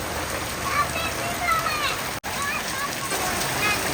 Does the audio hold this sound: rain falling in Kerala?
yes